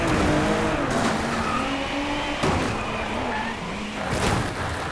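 A car in the PlayStation 4 racing game Driveclub skids with a loud, sustained tire squeal that bends in pitch over a roaring engine, with a couple of sharp impact hits mixed in.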